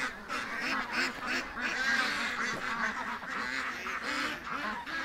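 Ducks honk and quack repeatedly in a busy, overlapping chorus nearby, with a steady rustle underneath as they dig at dirt.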